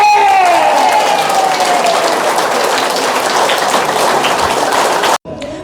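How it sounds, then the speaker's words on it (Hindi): An indoor audience at a health seminar claps together, a loud, dense and sustained wave of applause that fades slightly before cutting off abruptly near the end. "ताली ना आप लोग जो ताली है ना, सर के लिए नहीं बजा रहे हो"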